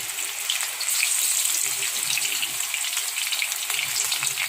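Steady, bubbling sizzle of battered enoki mushrooms deep frying in hot oil, continuous and close, with no voices.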